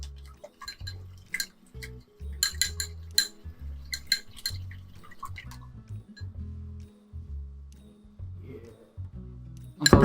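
Eggs with a tablespoon of milk being beaten in a bowl for a Japanese omelette: quick, quiet clinks and taps of utensil against the bowl with soft liquid sloshing, close and irregular, no talking.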